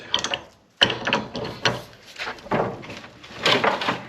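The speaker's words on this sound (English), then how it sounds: "let's get a pipe wrench on this, see if we can turn that at all" A pipe wrench works a seized part on a small manure spreader, producing a few close metallic clicks, scrapes and creaks of the mechanism as it is turned in short efforts.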